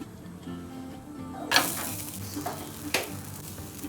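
A rolled corn cheese paratha frying in oil on a hot tawa crackles in a soft sizzle, and a sudden louder sputter bursts as more oil goes on, followed by a few short spatula taps, close and quiet.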